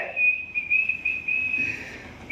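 A man whistles a steady high note, sustained and slightly wavering over about two seconds, fairly close and clear against a quiet background.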